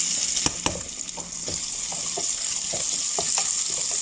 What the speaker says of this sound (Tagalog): Igisa lang ng kunti yung onion natin.